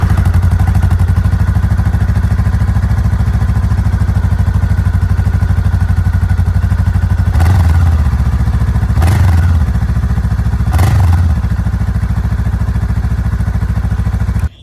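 A Honda Rebel 500 motorcycle with its stock exhaust idles loudly and close by, a steady low, throbbing rumble broken by three short throttle blips near the end before it cuts off.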